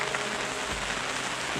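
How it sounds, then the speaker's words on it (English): Steady rain falls outdoors on an autumn riverbank, a soft, even hiss of drops with no voices. "Well, it's definitely raining today."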